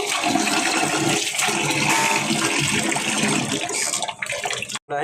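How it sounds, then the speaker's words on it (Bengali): Water gushes steadily from a tap while meat is washed, a loud continuous splashing rush that stops briefly near the end. "করছি ওয়াশ করতেছি"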